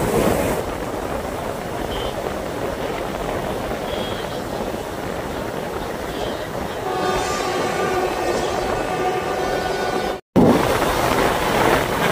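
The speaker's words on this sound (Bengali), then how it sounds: "ট্রেন কিভাবে টার্ন করছে দেখুন," A local passenger train runs steadily on the Goalpara to Guwahati line while rounding a curve, with continuous rolling rumble and wheel noise, a long sustained horn or squeal toward the end, and a brief dropout before the rumble resumes.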